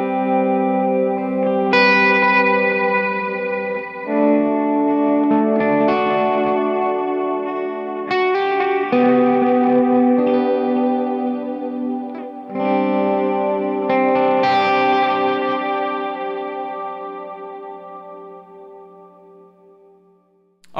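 Electric guitar through an Agape Tribute 18 amp with light delay, playing slow ambient worship melodies; sustained chords and single notes ring out with soft echo trails, steady and fairly loud, no talking.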